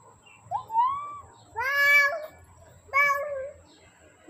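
A pregnant pet cat meows three times in close succession, each call rising and wavering, loud and near, with quiet household background between the cries.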